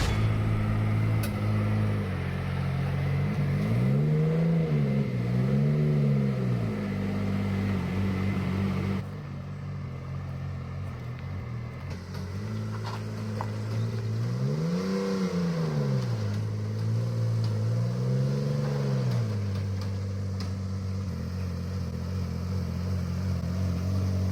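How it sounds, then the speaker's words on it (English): A Metro 6R4 rally car drives on the road on new tyres, its engine droning steadily from inside the cabin and rising and falling through two clear rev swells, with no talk. "out on the venture on the 6R4 with Ada behind the wheel."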